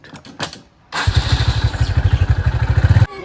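A motorcycle engine catches after a few faint clicks and fires into a loud, close idle with a rapid, even chugging pulse that stops abruptly near the end.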